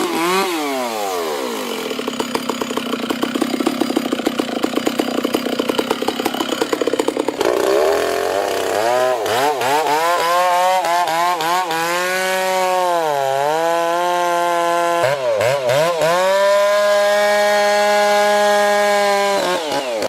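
Modern chainsaws cut trees during logging, with a loud, close, continuous engine whine that rises and falls in pitch as the saw bites into the wood and revs freely.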